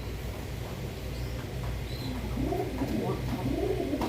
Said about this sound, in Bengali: এটা একটা বড় পায়রা কবুতর, নর কবুতর